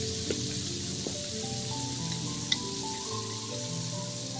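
Onion-garlic paste and turmeric fry in hot ghee for a koi fish curry with jute leaves, a steady close sizzle with faint spoon clicks and a brief sharp tap.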